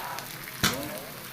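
Chicken with spices sautés in a pan, giving a soft continuous sizzle broken by one sharp scrape or clatter partway through, brief and close.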